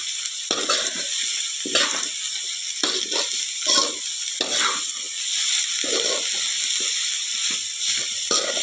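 Vegetables for fried rice sizzle in coconut oil in a pan, a loud steady hiss broken by repeated scraping stirs, close and continuous with no talking.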